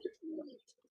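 Pigeons of a Bullet line in a loft coo softly, one low burst followed by a longer throaty call and a few faint trailing notes, with light chirps above, near and fairly quiet.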